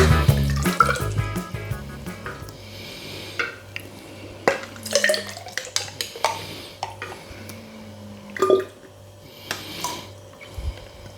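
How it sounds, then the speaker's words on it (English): A spoon stirs sugar into liquid in a kitchen container with scraping, clinking strokes against the vessel, watery swirls and a drip or two, alone, with a low steady hum underneath. "I'm going to mix this in and check the gravity."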